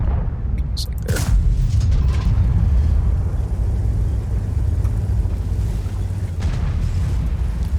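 T30 tank gun firing in World of Tanks: a heavy boom with a sharp crack early on, then a low engine rumble carrying on steadily with faint metallic clanks.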